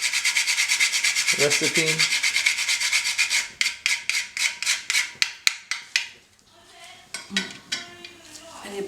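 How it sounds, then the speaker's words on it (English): Rhythmic scraping strokes of nutmeg rubbed against a grater over bechamel sauce for lasagna, loud and close, then quieter rasps with a brief spoken word partway through. "And grating some nutmeg into the bechamel"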